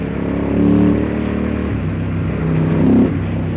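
A 2003 Ducati Monster S4 916 motorcycle engine idles with a deep rumble and is revved twice, each rev rising and swelling loudly before dropping back, no talking.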